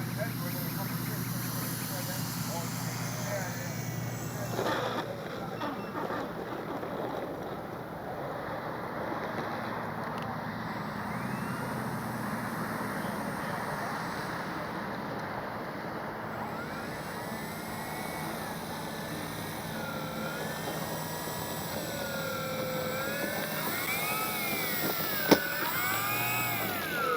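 An H-King Yak-11 RC model plane's motor drones steadily for the whole stretch, with a whining, shifting pitch as it flies past, mixed with wind noise and occasional voices.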